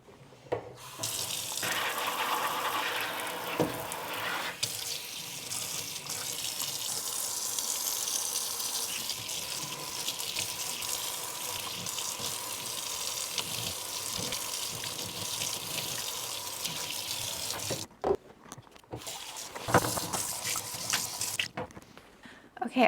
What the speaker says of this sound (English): I'm gonna water through with some water and hydrogen peroxide.